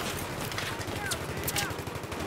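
Rapid gunfire from a Battlefield 3 multiplayer match crackles steadily throughout, a dense rhythmic stream of shots under faint background voices.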